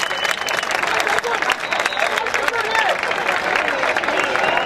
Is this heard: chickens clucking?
no